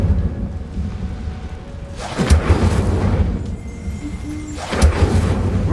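Two deep whooshing bursts of a fire spell cast in Hogwarts Legacy, about two and a half seconds apart, each a loud rushing roar over a low steady ambient rumble.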